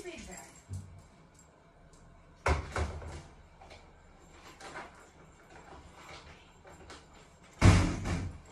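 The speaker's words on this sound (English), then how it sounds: "I know you heard someone over at the door." A front door bangs twice, loud and sharp, several seconds apart, amid softer household movement and a voice in the room.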